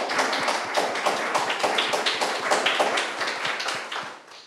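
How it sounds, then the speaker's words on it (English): Audience applause at an arts and culture forum in Venice, dense steady clapping from a full room that holds at a constant level for several seconds before tapering slightly at the end, with no voices over it. "Big round of applause for Emma Ridgway."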